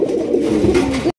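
A male pigeon held in the hand coos, giving one short, close, throaty rolling call that lasts about a second, heard alone before an abrupt cutoff.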